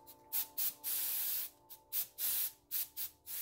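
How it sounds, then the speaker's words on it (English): Sharp bursts of aerosol spray hiss, several short puffs and longer sustained sprays in an irregular rhythm, close and fairly loud. "Help it along here with my spray can."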